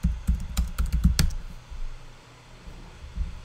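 Typing on a computer keyboard, a quick close burst of several key clicks during the first second and a half, then quiet with a faint background hum, no talking.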